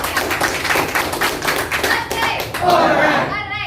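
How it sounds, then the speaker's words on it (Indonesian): Applause from an audience at a motivational talk, a dense burst of clapping hands that swells toward the end, close and loud. "kasih aplaus."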